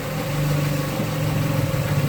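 A Toyota Corolla with a 2E engine idles close by with a low-power, unstable-idle fault, giving a continuous low mechanical hum with slight wavering.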